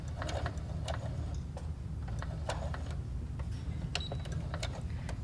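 Home sewing machine stitching fabric for a dog bandana, a quiet steady mechanical whir with faint regular ticking, running a few stitches forward and back with no voice over it.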